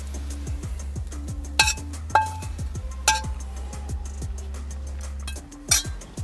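A utensil scraping leftover bits out of a cooking pan after salmon was cooked in a backyard kitchen, giving repeated clinks and scrapes at an irregular pace, with a few sharper metallic knocks over a low steady hum.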